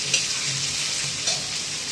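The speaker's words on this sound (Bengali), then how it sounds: "আলু পড়ার পরে এবার এটাকে একটু ভেজে নেওয়া হয় ভালো করে।" Potatoes fry and are stirred in a pan for a Bengali-style egg and potato dish. A steady close sizzle runs throughout, broken by a couple of brief scraping stirs, with no voices.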